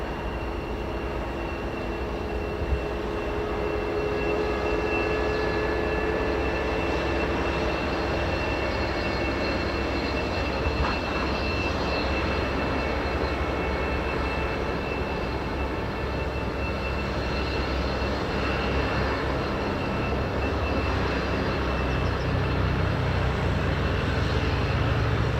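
A Danish military aircraft arriving at RAF Fairford during the Royal International Air Tattoo, a steady, broad engine roar that holds at constant loudness throughout, distant and rumbling with no pauses.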